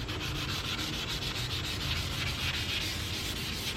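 An aggressive sheet of sandpaper is worked left to right across a BMW E39 M5 headlight lens, giving a steady, close, rasping rub in quick repeated strokes with no pauses and no speech.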